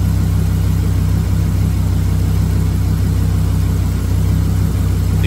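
A car engine idles steadily and loudly throughout an air conditioning recharge, a constant low hum and rumble with no talking.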